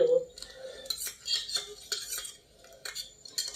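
A pinch of yellow biryani food colour is mixed into rice with a metal spoon, giving repeated close clinks and scrapes against the vessel, with no voices.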